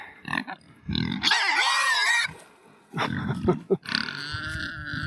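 Pigs on a farm, sows being sorted, give several close, rough grunts and squeals in bursts with short pauses between them, loud and fairly continuous.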